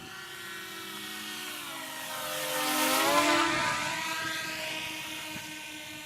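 A small recycled RC quadcopter-built airplane comes in to land on a runway, its motor whine rising and falling in pitch as it passes close, then fading, with no talking.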